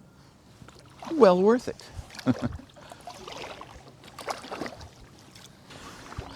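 A kayak paddle strokes the water at Pocahontas State Park on a chilly morning, soft splashes and drips coming in irregular bursts while a person talks briefly nearby.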